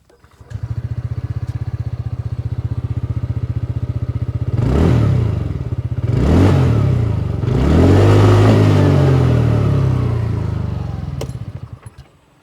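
A 2025 TVS Ntorq 125 scooter idles with a steady, close exhaust putter, then revs sharply three times, the last rev held longer before the engine falls back and cuts off.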